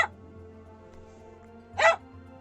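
A dog in the video game Final Fantasy XIV gives two short, sharp barks, one at the very start and another near the end, separated by a quiet stretch of low background hum.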